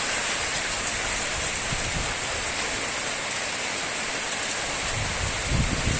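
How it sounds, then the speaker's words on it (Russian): Steady rain in the Himalayas near a Buddhist temple, a constant dense hiss of falling drops with no break, fairly loud and close. "дождь в Гималаях."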